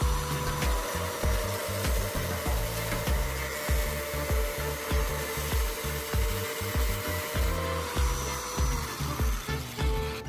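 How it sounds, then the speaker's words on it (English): A used PVC pipe is sawn to length by hand, with rapid, regular back-and-forth rasping strokes that carry on steadily throughout, close and fairly loud. "prepare the used PVC pipe and cut it to a length of 20 centimeters"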